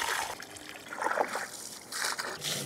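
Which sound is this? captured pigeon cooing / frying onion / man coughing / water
water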